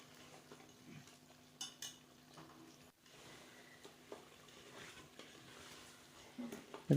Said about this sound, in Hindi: अब इसकी अच्छी तरह भुनाई करनी है पायों की